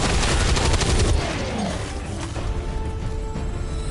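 A loud burst of gunfire in the XCOM 2 game, rapid shots for about a second that then trail into a fading, ringing decay.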